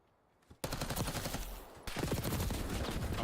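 Call of Duty gunfight during a competitive league match, dense rapid automatic gunfire breaking out suddenly after a near-silent moment, a brief pause, then another loud sustained burst.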